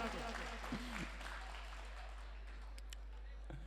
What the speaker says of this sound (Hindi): आप तो जरा तालियां बजाओ